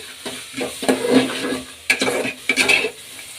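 Hyacinth beans and onions are stirred in a pan, giving a few quick scraping, clattering strokes of a utensil against the metal over a light sizzle, close by.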